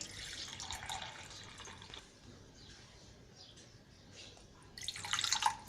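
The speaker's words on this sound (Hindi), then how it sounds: "सबसे पहले दूध डालेंगे जितना हमें चाहिए।" Milk being poured into a glass for falooda: a soft liquid pour fades in and out, then a louder splashing burst of pouring comes at the end, all close and fairly quiet.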